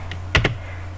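Two quick keystrokes on a computer keyboard while a router IP address command is entered, crisp and close over a steady low electrical hum, with no talking.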